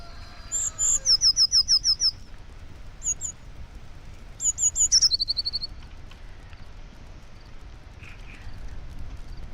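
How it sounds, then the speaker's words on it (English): Little jay bird in the Second Life virtual world chirping loudly and close, delivering two rapid bursts of repeated high chirps with a brief pause between, then a few faint calls over quiet ambience. "it's a little jay"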